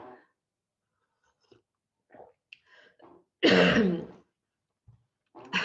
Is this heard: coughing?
yes